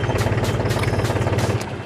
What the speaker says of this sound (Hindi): जब मैं इस लीवर को न्यूट्रल डालूंगा तो ट्रैक्टर चालू हो जाता है